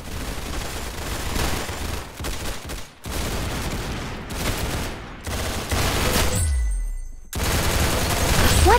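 Dense, loud gunfire from the Roblox Arsenal video game on a DustStorm competitive map, with continuous shooting and brief pauses between bursts.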